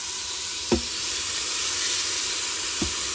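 Hamburger steak patties browning in an Instant Pot on saute mode give a steady, close frying sizzle, with two brief sharper clicks as they are moved.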